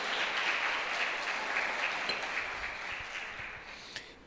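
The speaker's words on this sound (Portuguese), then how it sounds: "pode aplaudir o Senhor" Sustained applause from a church conference audience, steady clapping that gradually fades toward the end.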